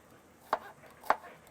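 A knife chops small onions (shallots) for a Kerala mackerel curry, two sharp, quiet, evenly spaced cuts against a board with faint background hiss and no talk.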